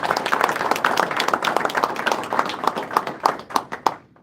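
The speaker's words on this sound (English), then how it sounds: "So let's give Thomas a round of applause." A crowd at a city press briefing on an economic development initiative gives a round of applause for a speaker, a dense burst of clapping that thins into scattered claps and fades out.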